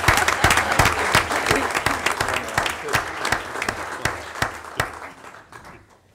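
Applause at a city council meeting after a mayoral proclamation, a room of people clapping with distinct sharp individual claps, loud and steady before fading out near the end.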